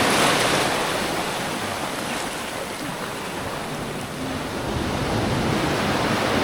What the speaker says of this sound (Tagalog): Ang lakas na ng alon.